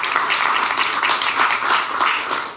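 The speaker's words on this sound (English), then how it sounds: "Let's give him a round of applause." Audience applause at a SC State and Mixon Seed Service press event for a new cover crop seed mix, dense steady clapping from a crowd throughout, fairly loud and without speech.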